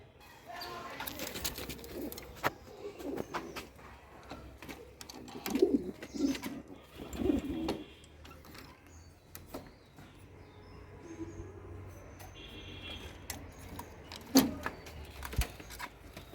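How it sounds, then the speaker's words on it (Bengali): White fantail pigeons in a home loft give soft, low coos now and then, with wing flaps and scattered knocks and rustles around them, moderately near and fairly quiet. "এই দেখুন, এগুলো হচ্ছে আমার ময়ূরপঙ্খী কবুতর।"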